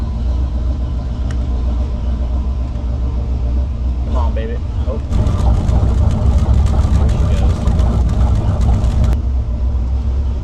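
A boat's starboard engine cranks and catches, settling into a deep, rumbling idle close by, with a voice speaking briefly over it.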